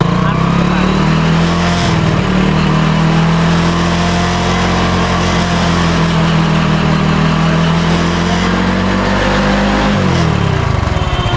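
A motorcycle engine runs steadily and loud close by, driving an alternator generator under test, a constant droning hum that holds its pitch for about ten seconds before dropping slightly near the end.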